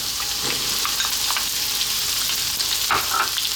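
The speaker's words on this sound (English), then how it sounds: "We're now going to drop in our onion." Onion fries in a hot pan in a steady, loud crackling sizzle, with a few scattered spatula clicks near the end.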